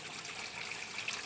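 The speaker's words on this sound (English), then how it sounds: "So we over here just rinsing the tomatoes, even though they already come rinsed." Tap water runs steadily over tomatoes being rinsed in a kitchen, a continuous close trickling wash with no voices.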